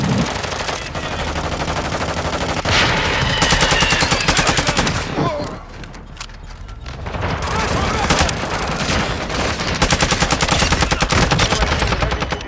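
Heavy automatic gunfire with armor-piercing rounds in Call of Duty: Modern Warfare II, long loud bursts of rapid shots broken by a brief pause, then more sustained firing.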